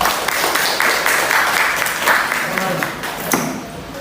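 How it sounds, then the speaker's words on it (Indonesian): Students in a classroom applaud for about four seconds, a dense, steady patter of clapping at moderate volume with a few sharper claps standing out. "Beri tepuk tangan."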